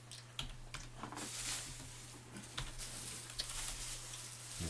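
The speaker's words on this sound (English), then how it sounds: "I'm trying to pull a Coke out of a bag, a plastic bag, but Sacha still does not know how to close" A Coke being pulled out of a plastic bag gives faint, scattered crinkles and soft rustling clicks over a low electrical hum, with no one talking.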